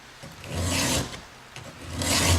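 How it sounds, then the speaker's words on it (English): A hand file rasps against a chainsaw chain tooth to sharpen it, a few close, loud back-and-forth strokes with brief pauses between them. "I'm just going to keep cutting this tooth back until it's sharp."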